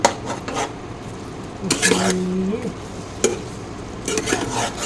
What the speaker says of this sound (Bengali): এটা ভালো করে মশলাটা কষিয়ে নিয়ে